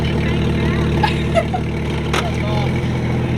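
A car engine idles with a low, rough rumble from a damaged, dangling exhaust, steady and close, while a person speaks over it.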